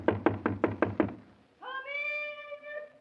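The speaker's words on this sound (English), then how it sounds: "Knock on the door." Five quick, even knocks on a door ring out close and clear in an old 1938 radio drama, followed at once by a long, wavering voice answering.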